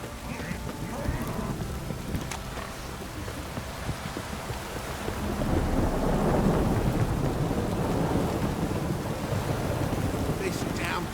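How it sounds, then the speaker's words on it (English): A heavy rain downpour hisses steadily in The Witcher 3 while thunder rumbles low and long, swelling louder midway and continuing as a dense wash of rain throughout. "This downpour's a bastard,"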